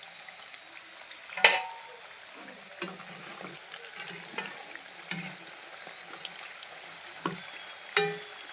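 Coconut pitha cakes fry in hot oil with a faint, steady sizzle, punctuated by a few sharp clatters as the cakes are turned over in the pan.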